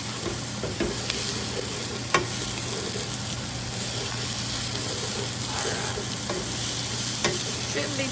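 Onions and peppers for a philly cheesesteak fry steadily in a pan while being mixed, producing a constant loud sizzle and hiss with occasional spatula scrapes and taps.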